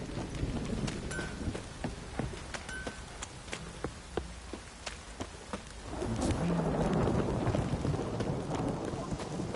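Rain in The Witcher 3 arrives as sparse ticking drops at first, then swells into a denser, steady patter in the last few seconds, moderately quiet and without speech.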